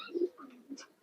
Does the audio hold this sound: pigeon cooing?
yes